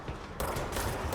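A rapid burst of gunfire from the video game Control rattles loudly and continuously, intensifying partway through a brief, dense volley.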